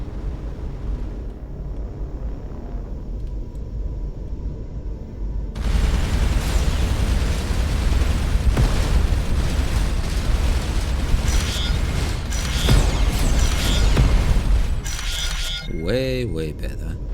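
In the space game Starcom: Unknown Space, weapons fire and explosions crackle and boom in dense, repeated bursts after a quieter opening, followed by a swooping tone near the end, with a voice speaking over parts.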